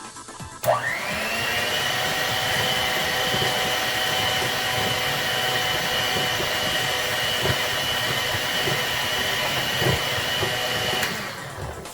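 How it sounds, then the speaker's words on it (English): An electric mixer whips egg yolk for a flax seed almond bread batter, starting abruptly into a loud, steady motor whine that holds for about eleven seconds before cutting off. "Alright, so now I'll go ahead and mix the yolk."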